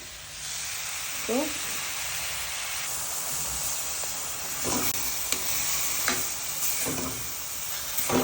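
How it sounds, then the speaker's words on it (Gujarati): Milk poured into hot ghee for paneer carrot halwa sets off a loud, continuous sizzle and hiss, with brief stirring clatters and a short spoken word over it. "હવે ઘીમાં એટલે દૂધ નાખી દઈશું"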